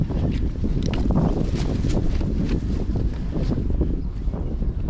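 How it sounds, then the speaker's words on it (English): Steady, strong wind at Orchard Beach in the Bronx, buffeting the microphone in a continuous rough rumble and gusting roar with no talk. "Seems like a good windy day for that kite."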